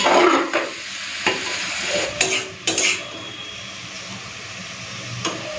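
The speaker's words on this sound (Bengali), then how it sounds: "তো এইভাবে আমি 2-3 মিনিট একটুখানি চিকেনটা ভেজে নেব" Chicken pieces frying in a pan over a low gas flame, with a steady soft sizzle and a few sharp clinks of a spoon or spatula against the pan, heard alone at close range.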